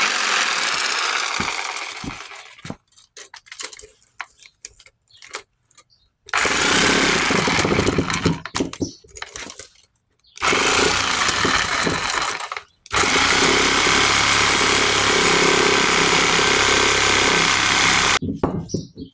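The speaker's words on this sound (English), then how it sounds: "I'm going to have to get out the Sawzall." A Sawzall reciprocating saw fitted with a new blade cuts through a thick electric motor for copper scrap on a floor, producing loud, harsh buzzing bursts of several seconds separated by brief pauses and clatter.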